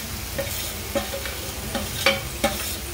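Malvani-style marinated kaleji (liver) stir-fried in a hot pan: a constant sizzle punctuated by five or six sharp spatula scrapes and clacks at an uneven rhythm, close and alone without speech.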